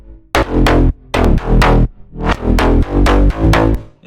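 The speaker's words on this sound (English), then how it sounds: "Then I have the reverse bass right here." A reverse bass from a slap house track swells and pulses in loud, thick bursts, sliding through rhythmic phrases that build toward a drop, with no voices.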